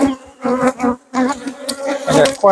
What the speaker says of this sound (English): I got quite a few bees in my veil